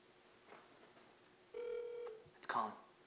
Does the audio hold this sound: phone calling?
yes